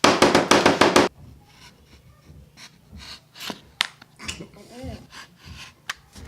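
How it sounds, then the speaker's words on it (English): Rapid, sharp hammer blows strike folded leather, a burst of about seven loud, evenly spaced hits, followed by quieter scattered taps, rubbing and handling noises with some talk. "what are you guys hammering?"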